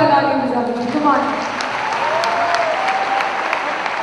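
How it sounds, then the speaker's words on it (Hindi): At a Safe Shop recognition event, a large audience breaks into loud, sustained applause, steady dense clapping heard under a fading musical tone and some voices. "एक बार इन सभी के लिए जोरदार तालियां बजा दो"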